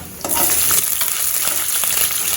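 Dried red chillies, shallots and curry leaves sizzle and crackle in hot oil for Tamil-style lemon rice. The frying is steady and close, with a few stirring scrapes.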